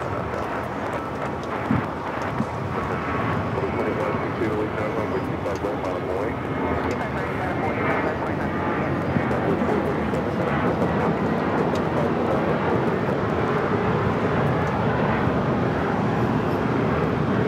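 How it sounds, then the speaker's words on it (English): Southwest Airlines Boeing 737-700, flight 437 to Tucson, takes off at LAX with a steady, broad jet roar that builds slightly over the span. "This is Southwest Airlines 437 taking off to Tucson on the 737-700."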